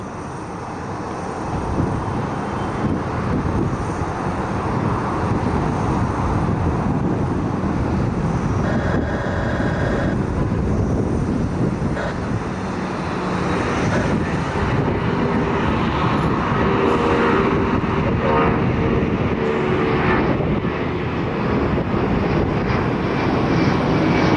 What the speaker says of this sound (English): It's a 757-200 heading up to Atlanta.